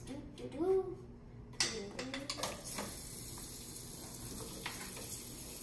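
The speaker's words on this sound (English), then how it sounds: "So now we're just gonna stir the potatoes like so till they start to brown." Potatoes frying in olive oil in a pan sizzle quietly and steadily, with a few sharp clinks and scrapes of stirring near the start and a faint voice briefly in the background.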